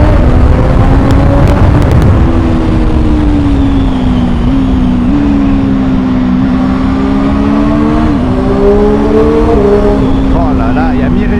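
A 2021 Triumph Street Triple 765 RS motorcycle engine revs through a tunnel in second gear, a loud, close, reverberant drone that holds steady at mid-revs with small pitch rises and dips over about eleven seconds.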